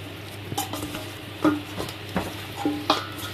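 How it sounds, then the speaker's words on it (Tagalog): Lamb chops stirred in a marinade with black pepper, giving irregular wet squelching and scraping strokes with light clinks of a utensil against a bowl, close and distinct with a low steady hum behind. "so mix lang natin ito"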